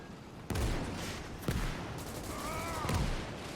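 Tank cannons firing in a WWII Battle of the Bulge video game, 1944 siege setting: three heavy booms about a second apart, each with a rolling tail over a steady battlefield rumble, with a faint whistling sweep between the last two.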